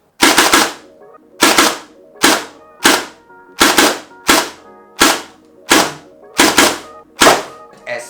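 A Nerf Challenger MK3 blaster fires about a dozen sharp, loud cracks, close and spaced at a fairly steady half-second beat, with short rattles and silence between shots.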